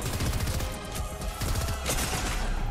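Rapid gunfire in Fortnite, a dense stream of quick repeated shots over a busy, loud game backdrop, with a few brighter impacts along the way.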